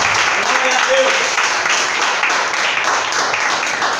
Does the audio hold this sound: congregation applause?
yes